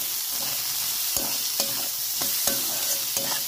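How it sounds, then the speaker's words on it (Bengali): Onion, chilli, turmeric and chilli powder frying with potato and bitter gourd in a Bengali home kitchen: a steady hiss of sizzling oil broken by regular sharp scrapes of a spatula stirring against the pan. "ভালো করে নেড়ে চেড়ে ভালো করে ভেজে নেব।"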